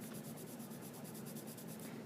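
A pencil rubs over paper while coloring and shading a bridge drawing, a faint, close, continuous scratchy sound with quick repeated back-and-forth strokes and no talk.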